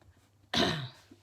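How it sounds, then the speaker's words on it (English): A single close, harsh cough bursts out after a quiet moment, then fades back to near silence. "I've got the coughing still"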